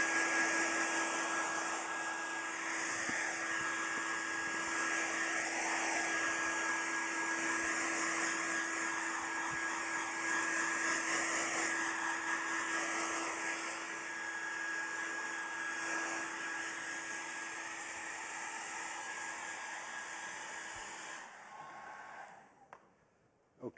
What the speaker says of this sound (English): it would be help perhaps if we dry the wig a little